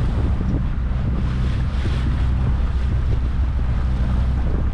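A sailboat's engine drones steadily beneath rushing wind and the wash of water at sea, a loud, constant rumble with no voices.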